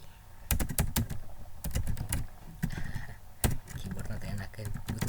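Rapid clicking of a computer keyboard during Python text-to-speech coding, with bursts of keystrokes and a few louder key thumps, close up, while someone talks over it.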